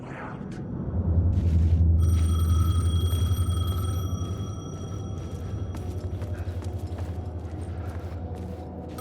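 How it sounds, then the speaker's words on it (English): A payphone rings in the game Alan Wake, a steady electronic bell tone that holds over a low rumbling ambience and continues for several seconds. "The payphone was ringing."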